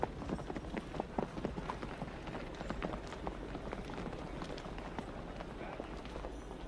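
Horse hooves clip-clop at a steady walking pace on hard ground in a historical drama scene, the dense, fairly close hoofbeats continuing throughout amid faint background bustle.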